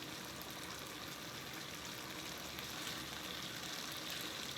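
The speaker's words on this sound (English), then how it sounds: "I like to turn the heat up a little bit and put my salmon in skin side down, amongst the tomatoes." Salmon fillets frying skin side down in a hot pan among tomatoes, a steady close sizzle and crackle running unbroken without talk.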